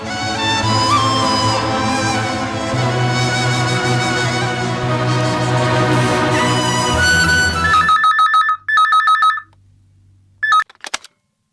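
An outgoing phone call is placed to a relative. A burst of keypad dialing tones gives way to repeated electronic ringback pulses in short regular bursts, preceded by loud background music that cuts off abruptly.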